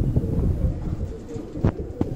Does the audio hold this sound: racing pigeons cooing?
yes